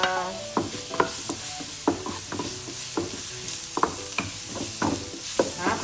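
Chopped onion sizzles in a hot pan alongside ginger and garlic for low-carb broccoli rice, with a steady frying hiss broken by repeated scraping clicks of a stirring utensil, close and moderately loud.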